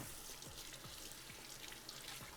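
Kitchen utensil from a marinade bowl rinsed under a running tap, a steady close wash of water with faint clinks, no voices.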